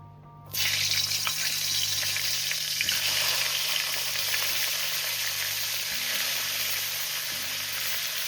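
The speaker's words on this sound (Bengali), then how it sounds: "এবার আমি আলু ফুলকপিটাকে ভেজে তুলে নেব।" Potato and cauliflower pieces fry in hot oil for a Bengali fish curry, a loud, steady, close sizzle that starts abruptly after a brief quiet moment and continues evenly, with a faint low hum beneath and no talking.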